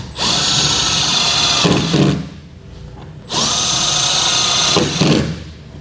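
A power drill drives fasteners into a truck hitch bracket on a 2015 Ford F-350 during a 5th wheel and gooseneck wiring harness install. It gives two long, loud, close whirring runs, each ending in a brief clatter, with a short pause between them.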